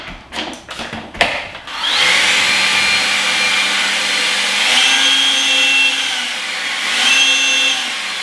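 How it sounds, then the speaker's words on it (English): Ego battery-powered electric leaf blower whirring up to a steady loud whine after a few handling clunks, stepping up in speed twice and dropping back, running alone without talk. "Alright, this is that blower."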